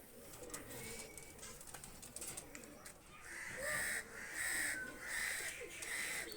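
Pakistani high-flyer pigeons kept for sale, giving soft low cooing and a few brighter calls up close, fairly quiet, with no talking over them.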